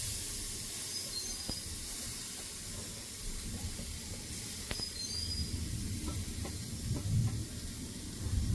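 Grated coconut roasting in a hot kadai for coconut naru, a steady soft hiss with occasional faint scrapes and clicks, close and even, without talk.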